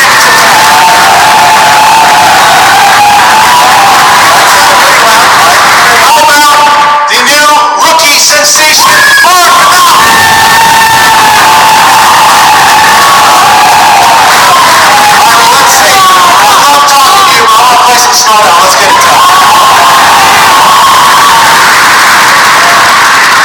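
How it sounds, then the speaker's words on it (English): A large crowd at a competitive trivia tournament claps and cheers loudly and continuously, with whoops and shouts rising above a dense wash of applause throughout. "Round of applause."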